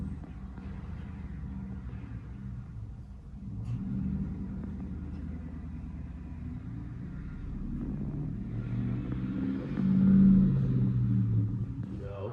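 A Ford Mustang Mach 1 pulls away, its low engine rumble rising into a louder surge before easing off, heard at moderate distance with faint voices nearby.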